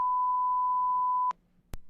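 A steady censor bleep tone holds for over a second and cuts off abruptly, followed by a short click and a brief thump in an otherwise quiet live-stream studio.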